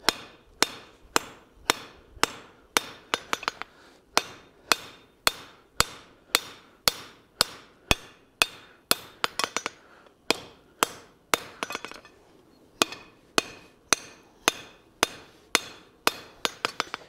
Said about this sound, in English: Try not to get too many missed hammer blows there.